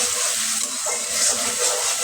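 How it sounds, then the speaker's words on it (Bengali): Onions frying lightly in a pan for a hilsa fish head and tail curry with taro, giving a steady close hiss and sizzle that runs evenly throughout with no talking. "পেঁয়াজটাকে হালকা একটু ভাজা নিতেছি।"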